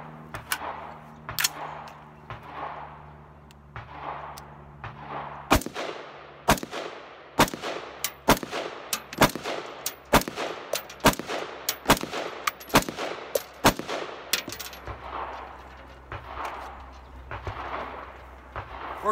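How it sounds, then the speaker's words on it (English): A rifle fires brass Agila 5.56 rounds one at a time, each shot a sharp, loud close crack with a ringing tail, spaced roughly a second apart over a steady low background hum. "I'm starting with 10 rounds of the brass Agia 556."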